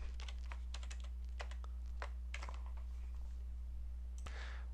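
A computer keyboard being typed on, with quick irregular clusters of crisp keystrokes, close and distinct over a steady low electrical hum, then a single sharper click near the end.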